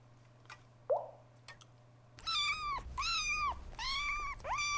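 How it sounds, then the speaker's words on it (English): A crying cat clock in the Coming Out Simulator video game gives a few soft drips and a plop, then breaks into a run of loud, drawn-out synthetic meows, close and repeating one after another. "Cut the crying, cacophonous cat clock."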